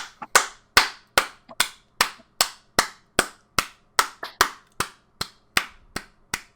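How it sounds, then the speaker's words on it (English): Clapping during a podcast taping, a single person's sharp, close claps in a steady, evenly spaced rhythm of about two per second, loud against a quiet room. "let's clap it out"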